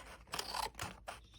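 Scissors snip close and quiet through paper, a few quick crunchy cuts in a row as a small paper tab is trimmed from a seed packet envelope.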